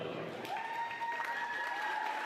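Graduates at a graduation ceremony are applauded, with steady clapping from a seated audience and a voice speaking over it.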